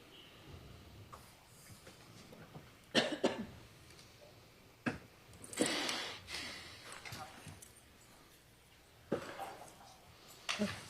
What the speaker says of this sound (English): Coughing continues.